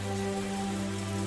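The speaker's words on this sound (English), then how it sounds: "Turned down the rain sounds a little bit as well" Steady rain falls on a surface as a soft, continuous background patter with a constant low hum and no talking.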